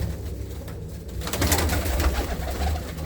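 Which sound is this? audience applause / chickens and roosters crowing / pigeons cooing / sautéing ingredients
pigeons cooing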